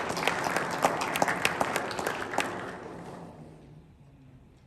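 A church congregation at a parish Mass in Laval gives a burst of hand clapping. The applause is dense and lively at first, then thins and fades over several seconds into near quiet.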